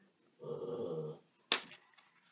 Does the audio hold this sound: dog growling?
yes